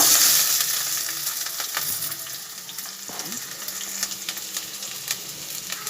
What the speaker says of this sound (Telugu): ముందుగా కట్ చేసి పెట్టుకుని ఆనియన్స్ వేసుకుని దోరగా వేయించుకోండి